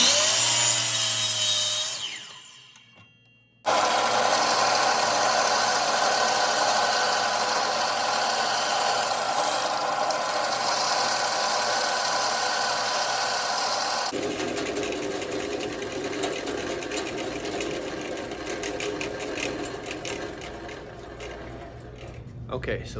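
A saw cuts steadily into a mallet head made from recycled plastic waste, a loud rasping, continuous stroke-driven noise that runs for most of the clip after a brief pause, its texture shifting partway through.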